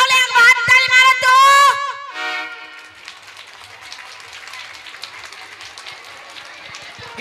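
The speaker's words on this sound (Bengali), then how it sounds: "তাহলে একবার হাততালি মারো তো।" An audience claps at a comedy stage show. Someone speaks loudly at first, then a spread of scattered clapping follows at moderate volume for several seconds.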